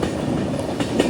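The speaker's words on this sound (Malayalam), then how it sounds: "ട്രെയിൻ ഇപ്പോൾ ബറാക് നദിയുടെ ഭാഗത്തേക്ക് എത്തുകയാണ്." A Humsafar Express passenger train running on rails in Assam near the Barak River, with a continuous close rumble and rattling carriage noise and a few quick wheel clacks.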